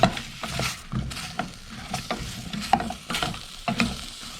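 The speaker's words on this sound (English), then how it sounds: "Just going to give that a little stir" An apple and kiwi fruit mixture is stirred in a pan on a lit stove, giving a soft sizzle beneath repeated scraping strokes of the spoon at an irregular rhythm, close and moderately loud, with no one talking.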